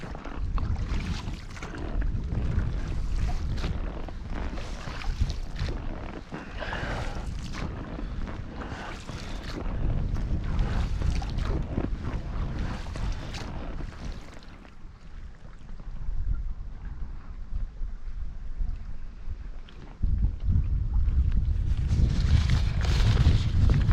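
Wind and tide on a small dinghy in Kingsbridge Estuary, steady low rushing wind buffeting the microphone over water movement and boat noise throughout, growing louder toward the end.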